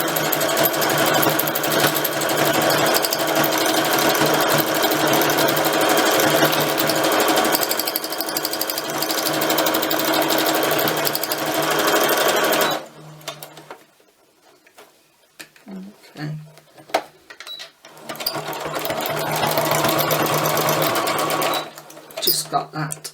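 A sewing machine does free machine stitching, a fast steady mechanical whir running for long stretches, stopping for a few seconds of scattered clicks, then starting again, close up with a voice talking now and then.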